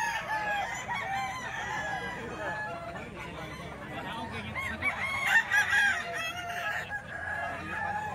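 Stag roosters crow repeatedly among clucking fowl at a busy Saturday chicken market in Baliwag, with people talking in the background throughout.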